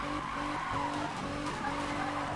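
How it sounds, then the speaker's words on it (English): In the Need for Speed video game, a four-wheel-drive car spins donuts with its tyres squealing and skidding over a steady engine drone, loud and continuous across the whole moment, with no speech. "It's kind of hard to do a donut with a four-wheel drive car."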